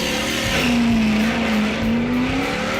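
A Ford XB Falcon drag car with a 460 big block V8 and alloy heads, racing at a drag strip, roars loud and steady with a rising, sustained engine tone and no talk.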